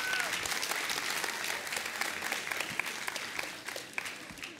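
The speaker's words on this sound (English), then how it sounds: "Muted applause." A modest audience at a corporate student event gives a subdued, continuous round of clapping, steady throughout and fading slightly toward the end.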